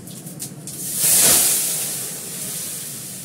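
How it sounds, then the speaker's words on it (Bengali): Dal is tempered with dried red chillies and five-spice seeds poured into hot oil, giving a sudden bright hiss that rises quickly and then settles into a steady sizzle. Close by, with no talking. "আমি ডালে ফোড়ন দেবো, যে শুকনো লঙ্কা দিয়েছি, আর দেবো 5 ফোড়ন।"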